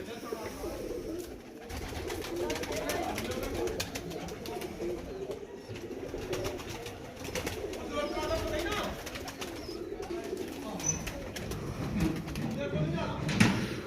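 Pigeons coo softly among a flock amid continuous background clatter and rustling, with faint movement noises throughout.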